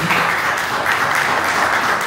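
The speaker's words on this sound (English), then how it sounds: "Another round of applause for Mr. Harrison." Audience applauding Mr. Harrison, a former patient addressing hospital staff at Bellevue Hospital, a steady wash of many hands clapping throughout, fairly loud and close, with no voices standing out.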